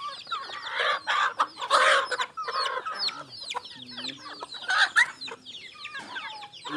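Creole chickens and a rooster on a farm clucking and squawking in overlapping bursts, close and fairly loud, with agitated calls rising and falling throughout.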